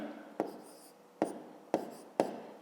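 A pen or pencil writes a number by hand during a fifth-grade maths exercise, making a few short scratching strokes, close and faint, with no talking.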